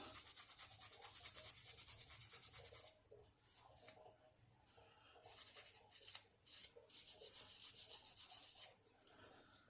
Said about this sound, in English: a quick rub down with the wire wool